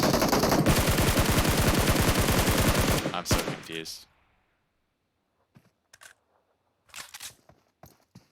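Rapid automatic gunfire from PUBG Mobile rattles loud and close in a dense burst for about three seconds, then a few single shots follow, fading into quiet with scattered faint clicks and thuds.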